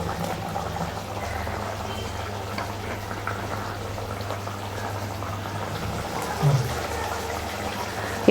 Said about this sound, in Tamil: இப்போ வந்து குழம்பு நல்லா கொதிச்சிடுச்சு.